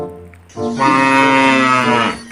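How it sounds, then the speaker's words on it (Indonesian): A cow lowing in a livestock pen: one long, loud, close moo that swells and holds steady for well over a second before tailing off. "wah ada suara sapi juga"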